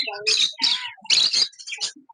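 A pair of Australian parrots chirps in quick high bursts, several bright tweets and squawks in short clusters at close range, with no talk over them.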